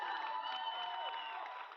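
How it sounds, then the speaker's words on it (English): An audience at a physique championship claps and cheers in a steady wash of applause with scattered shouts and whoops. The sound is moderately distant and continuous, fading slightly at the end. "As she does her last poses, feel free to yell. Clap, cheer."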